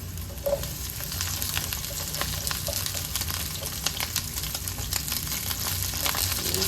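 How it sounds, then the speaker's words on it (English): Asparagus frying in a lightly oiled pan gives a steady, close sizzle with scattered crackles and occasional stirring scrapes throughout, and no one speaks. "we're gonna add our asparagus right in"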